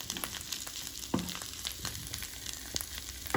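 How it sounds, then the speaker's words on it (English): Mushrooms sautéing in a pan with lightly browned onions give off a soft, steady crackling sizzle, punctuated by a few brief scrapes and clicks from stirring, fairly quiet and with no talk. "saute, they're a little bit brown. I'm adding the mushrooms"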